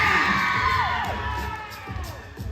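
Crowd at a live stunt show screaming and cheering, a brief burst of high shouts and whoops that tails off over about two seconds.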